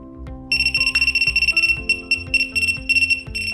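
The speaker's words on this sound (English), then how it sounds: "That is the full sound of the signal detection mode," A signal detector pen in signal detection mode emits rapid high-pitched electronic beeping in quick bursts, pulsing in an irregular rhythm over a low repeating background tone.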